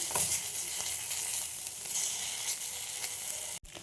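Eggplant pieces fry in hot oil with a steady, bright sizzle that carries on evenly for several seconds before cutting off abruptly near the end.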